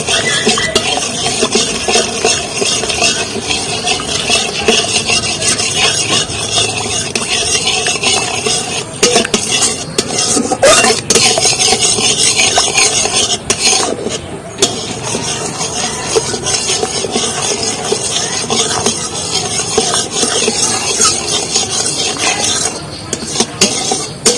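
Powdered milk being stirred into a sugar caramel in a pan for sweet yogurt, a dense continuous hiss with scraping and faint clinks of a utensil against the pan, steady and fairly loud throughout, without talk.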